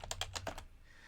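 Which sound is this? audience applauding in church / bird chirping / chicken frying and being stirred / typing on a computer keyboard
typing on a computer keyboard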